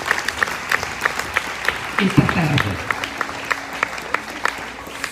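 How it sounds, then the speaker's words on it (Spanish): A church congregation claps in scattered, distinct hand claps, a few people applauding at a moderate distance while someone speaks over them briefly. "Demos un aplauso al Señor."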